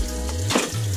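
Fish, freshly speared parrotfish or unicornfish, fries in a pan with a loud close sizzle, briefly broken by a clatter or splash midway before the steady frying resumes.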